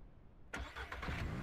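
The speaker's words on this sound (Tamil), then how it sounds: "இதுக்குள்ள போட்டு இன்ஜின் ஆன் ஆகுது." A vehicle engine in the video game Ranch Simulator cranks and catches after a moment of quiet, then runs at a low, rough idle, all within a second.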